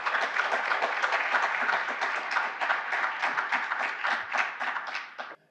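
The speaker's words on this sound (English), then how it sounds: "So let's give our panelists and our moderators another round of applause" A crowd applauds panelists and moderators after a housing-voucher panel discussion at a college, with dense, sustained clapping holding steady for several seconds before tapering off at the end.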